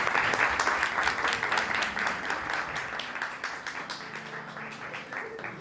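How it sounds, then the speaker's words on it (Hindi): A congregation at a thanksgiving worship service claps loudly together, a rapid, sustained burst of applause that slowly fades over several seconds. "तो मैं चाहता हूं कि आप सब अपने लिए भी जोरदार ताली बजाइए।"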